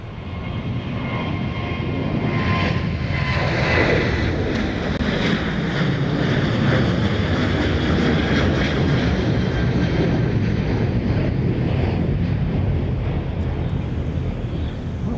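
A Southwest airliner departing Dallas Love Field roars steadily and loudly throughout, a broad continuous jet engine rumble with some wind buffeting on the microphone and no talk.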